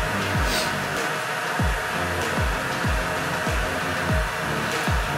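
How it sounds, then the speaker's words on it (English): An electric kettle heats water toward a boil, giving a steady broadband roar with a faint rhythmic low knocking from bubbling, close and continuous with no voices. "Make that noise. That's the kettle."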